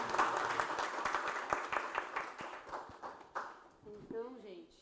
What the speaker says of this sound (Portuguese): volta à tela os participantes da roda de conversa batendo palmas